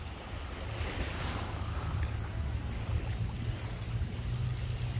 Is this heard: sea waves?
yes